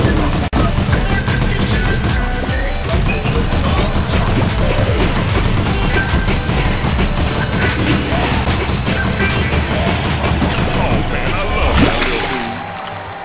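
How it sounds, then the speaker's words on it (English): Big explosions and dense crashing, clattering combat noise from the video game Monday Night Combat pile up continuously and loudly, fading slightly at the end. "Big juicy explosion."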